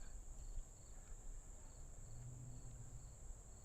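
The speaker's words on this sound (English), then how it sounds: "Can you hear it in the cricket?" Crickets chirping outdoors: a steady, continuous high-pitched trill that is faint but constant, with soft background rustle and no talking.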